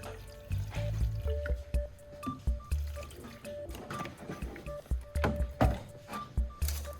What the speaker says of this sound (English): I'll pour the gasoline into a small tray.